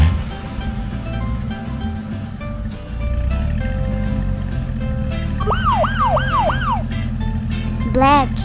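A steady low engine hum, then a toy police siren wails in rising and falling sweeps, followed by a quick warbling burst near the end.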